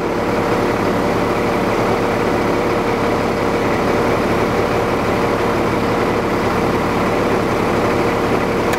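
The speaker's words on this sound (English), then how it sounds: "So if I turn it on, you hear the engine change?" A scrap yard bucket truck's engine runs steadily, a loud, even low rumble with a constant drone throughout and no voices.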